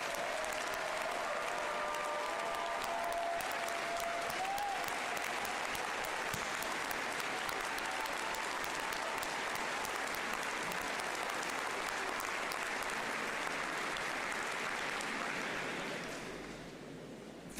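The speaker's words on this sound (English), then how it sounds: "Graduates, please join us in giving them a big round of applause." Graduation ceremony audience at a college commencement gives sustained, dense applause for around seventeen seconds, a broad wash of clapping from a large crowd that fades out at the end.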